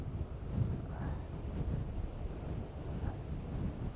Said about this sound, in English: Let's single out another wave, another one that's going to break really nicely.